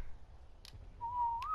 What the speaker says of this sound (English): I'll just whistle it again just to be sure